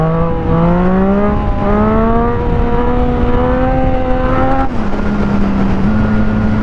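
A motorcycle engine revs hard and steadily during a chase wheelie on a sunny road, a loud close drone rising in pitch, then dropping sharply near the end before settling.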